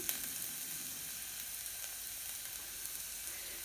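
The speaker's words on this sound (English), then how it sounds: "I'm going to add garlic and ginger. Stir that a little bit, turn it down" Garlic and ginger sizzle in a pan of hot avocado oil, a soft, steady, close frying crackle without any voices.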